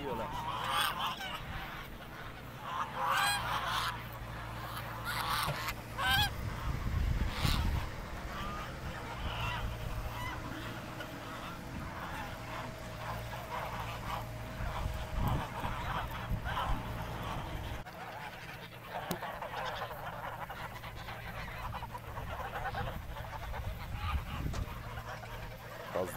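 Domestic geese honk often while waddling along, their nasal calls overlapping in irregular bursts close by, with soft rustling and a faint steady drone beneath.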